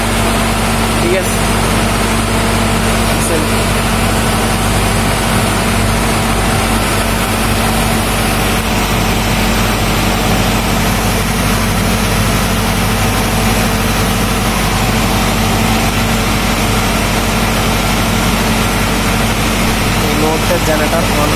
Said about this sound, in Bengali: জেনারেটর অন হয়েছে, যার কারণে আমাদের জেনারেটরের শব্দটার কারণে কথা বলা হচ্ছে না